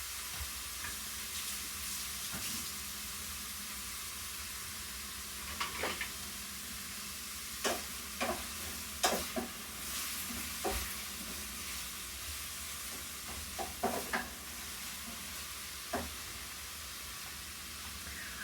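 Vegetables fry gently in a pan over lowered heat, a soft steady sizzle with scattered clinks and scrapes as they are stirred, faint and without speech.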